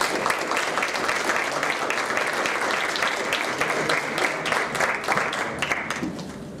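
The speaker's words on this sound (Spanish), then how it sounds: "Démosle un fuerte aplauso a nuestro chef Ernesto Aguilera Rodas." An audience gives chef Ernesto Aguilera a sustained burst of applause, dense and even throughout and tapering slightly at the end.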